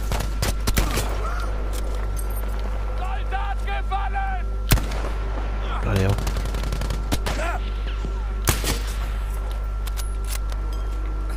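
Gunfire in the Battlefield 5 campaign, loud sharp shots and bursts mixed over a steady low game rumble, with a player talking intermittently.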